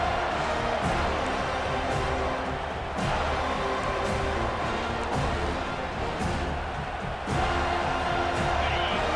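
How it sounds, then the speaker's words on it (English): Loud stadium crowd in EA Sports College Football 25 roars continuously as the defense tries for a fourth-down stop, a thick sustained din with surging swells and faint commentary beneath. "This crowd busting the decibel meter and trying to will a fourth down stop."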